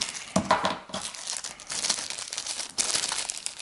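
Packaging of a Xiaomi Mitu Mini Story speaker being opened, with close, steady crinkling and crumpling of plastic and paper running throughout, punctuated by a few sharper tearing bursts.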